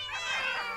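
A cat in a video game lets out a single drawn-out, harmonic meow, clear and close, with no talking over it.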